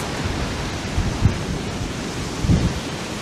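Rough, steady roar of surf and wind at the onset of a typhoon, with a couple of heavier wave surges rising out of the constant noise.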